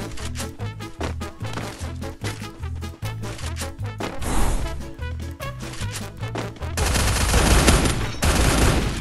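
Rapid bursts of gunfire from a shotgun in a shooting video game, loud, close and rhythmic, then giving way to a sustained noisy blast and rumble.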